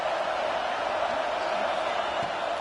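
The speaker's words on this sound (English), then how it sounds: "The Tide crowd rolling noise down onto Saban Field on third down." An Alabama Crimson Tide football crowd roars steadily in the stadium on third down, a dense continuous wash of noise at even loudness throughout.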